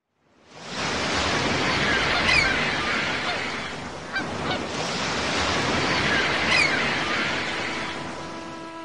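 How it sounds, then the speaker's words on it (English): Aboard the Washington Island Ferry crossing open water, a steady rush of waves and wind fills the scene, while geese honk faintly now and then over the churning surf. "Let's listen to some of the sounds we might hear when traveling on a ferry."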